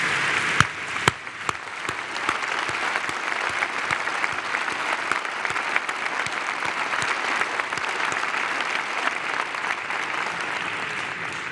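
A large audience at a Mexican government report applauds migrants with sustained, dense clapping that stays loud and even throughout, a few sharper claps standing out at the start.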